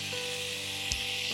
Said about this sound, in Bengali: জিরেটা অল্প ভাজা হয়ে গেছে